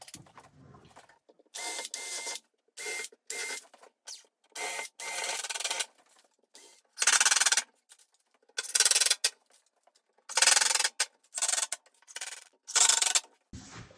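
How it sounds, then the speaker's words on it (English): A drill countersinks and drives screws into wood in repeated short bursts, each whir lasting around a second with quiet pauses between, close and fairly loud. "I'm just going to countersink and screw the living dickens out of this."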